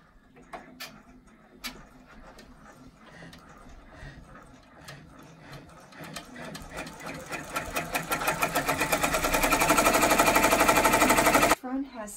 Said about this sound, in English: this is going to stitch a placement line to show us where to put the batting in the front fabric